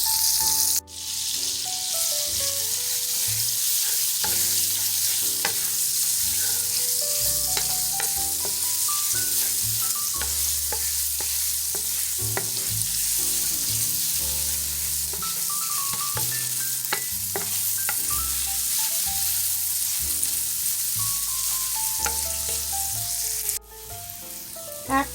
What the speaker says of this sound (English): we're going to add in our minced garlic and we're just going to saute that